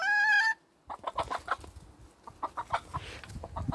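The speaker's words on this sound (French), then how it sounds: "Vous voyez, il y a des poules." Hens in a henhouse, a small one and a large one kept apart, give a sharp drawn-out squawk and then a run of close, rapid clucks in short bursts, with no voices.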